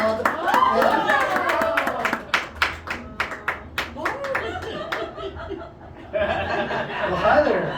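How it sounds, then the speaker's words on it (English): Applause from a magic show audience at House of Cards in Nashville, with a run of sharp, evenly spaced claps mixed with chuckles and laughter, and voices talking before and after. "give them both a big round of applause"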